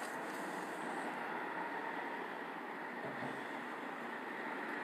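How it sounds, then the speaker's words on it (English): A train crossing a bridge gives a steady, broad rumbling rush at a distance, fairly faint and continuous, with no talking. "Here comes a train, look."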